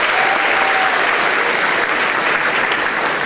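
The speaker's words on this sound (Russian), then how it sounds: "Ваши аплодисменты за ребят." A crowd's dense, steady applause fills the whole stretch, loud and even with no break.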